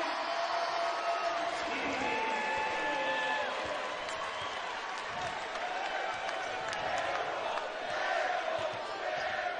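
Sellout basketball crowd fills the Holman Center arena in Terre Haute, Indiana, at an Indiana State college game, a steady roar of voices and cheering with scattered whistles, sustained and loud throughout.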